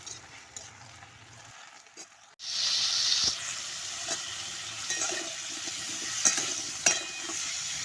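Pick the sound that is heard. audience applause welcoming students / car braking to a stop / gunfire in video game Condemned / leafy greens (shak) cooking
leafy greens (shak) cooking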